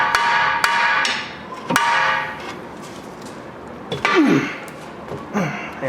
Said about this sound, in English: grab our best friend, the large pry bar, and put it right between the lower mount for the spindle here, and maneuver the lower control arm out from its home